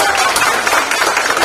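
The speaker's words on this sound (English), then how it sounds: "so give another round of applause" Dense applause from an audience at a humanities symposium after a speech, a steady wash of many hands clapping at once.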